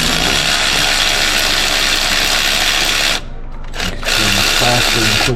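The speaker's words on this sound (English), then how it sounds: "I love using my electric ratchet." An electric ratchet whirs loudly and steadily while working on the engine of a 2003 Kia Sorento during timing belt replacement, cutting out briefly near the end before resuming with quick clicking bursts.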